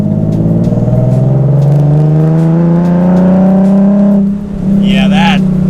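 Nissan 370Z with a loud exhaust heard from inside the cabin with the windows down, a close, droning engine note climbing steadily under acceleration, then dipping briefly as it shifts or lifts before resuming.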